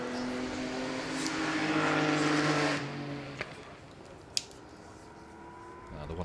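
Supercharged Italian Voiturette racing car at a hillclimb, blowing and downshifting: a loud, strained engine roar that builds and then drops away after a few seconds, followed by quieter running and a sharp click, with commentary over it.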